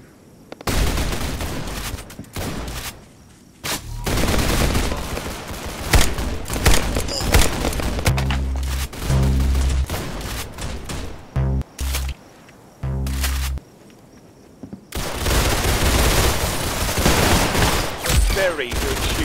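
Rapid bursts of gunfire from the Roblox shooter Arsenal, played on lowest settings with no textures, crackle loud and close in dense volleys with heavy low booms, stopping briefly and resuming through most of the stretch.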